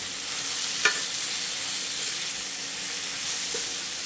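Mango pickle curry stirred in a pan, a soft continuous scraping and faint sizzle with a single sharp clink of the spoon near the start, steady and close with no voices.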